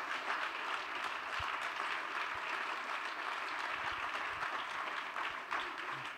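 Steady, sustained audience applause at a closing ceremony of a territorial innovation conference in Toulouse, a dense even wash of many hands clapping from a hall full of people, without speech over it.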